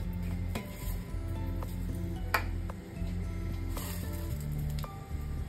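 Mustard seeds sizzle in a ladle of hot oil, a soft continuous frying hiss scattered with small pops and ticks, fairly quiet and with no one talking.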